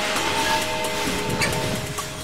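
A Revolution Express locomotive on a test drive gives off a steady rolling rumble and clatter, with faint high whines and a sharp knock at the end.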